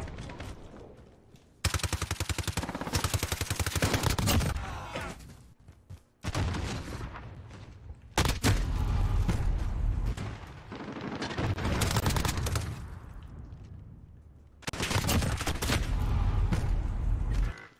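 A PP19 submachine gun in Modern Warfare fires in long, rapid automatic bursts, loud and close, separated by short pauses of near silence.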